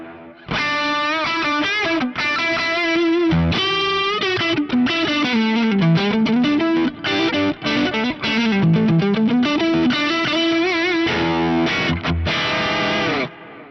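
Electric guitar on the bridge pickup played through a Fractal FM3 MK2 Turbo preset, heavily distorted with chorus and dotted-eighth delays, a continuous lead-style riff of sustained and bending notes, loud and alone.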